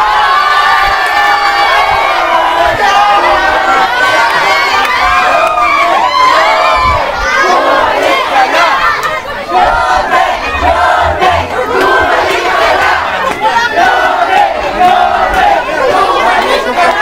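A large outdoor crowd at a political rally shouts and cheers continuously, a dense wall of whoops, chatter and children's voices that never lets up, loud and close throughout.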